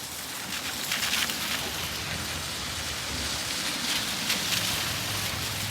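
Steady rain falls outdoors on a roadside between Guwahati and Cherrapunji in Meghalaya, a dense, even hiss of drops on surfaces that stays constant throughout.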